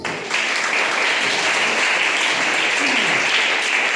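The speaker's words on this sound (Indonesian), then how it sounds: "Ayo beri tepuk tangan itu" Steady, dense applause from a large church congregation, continuous clapping that holds at an even level throughout.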